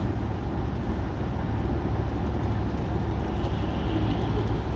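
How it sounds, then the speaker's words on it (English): Steady, dense rumble of car tires rolling on the road while driving, a constant broadband roar heard from inside the car with no breaks. "I'm listening to the sound that the car makes"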